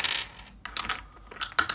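Dice clatter and tumble across a tabletop during a board game in a few quick bursts of rattling clicks, close and fairly crisp.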